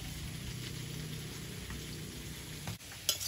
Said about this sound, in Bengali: আলুটা একটু বাদামি রং ধরে ভেজে নিয়েছি, এবারে ঢেলে নেব।